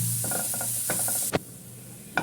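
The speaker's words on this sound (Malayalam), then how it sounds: "ആ പാനിലേക്ക് തന്നെ ഒരു സവാള ഞാൻ ചെറുതാക്കി അരിഞ്ഞിട്ടുണ്ട് അതൊന്ന് ഫ്രൈ ചെയ്തെടുക്കേണ്ട" Chopped onion fries in butter in a pan, giving a soft steady sizzle broken by a few short scraping stirs and one sharp clack near the end, close and with no talk.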